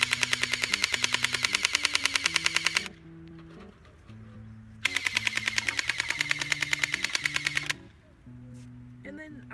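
Gel blaster on full auto: two bursts of rapid, evenly spaced shots, each nearly three seconds long, heard near and alone over a steady motor whine, with a quiet pause between bursts.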